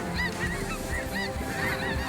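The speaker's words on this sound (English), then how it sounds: "We've got a flock of geese coming in at us right now" A flock of snow geese flies in over a lake, many overlapping honks and yelps at a busy, irregular rhythm, loud and near.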